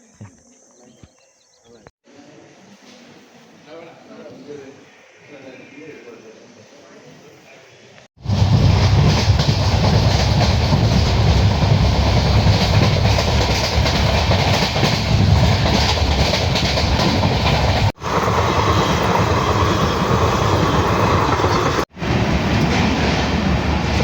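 A train rumbles steadily through a large tunnel, a loud continuous roar with rhythmic clatter after a quieter opening with faint background noise.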